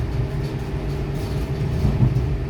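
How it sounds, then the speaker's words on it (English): A train passing close by, heard from aboard a V set intercity train on the Strathfield to Hornsby line: a steady, heavy low rumble with wheel and rail noise that holds throughout and swells slightly near the end, with no talking. "Ooh, what train is that?"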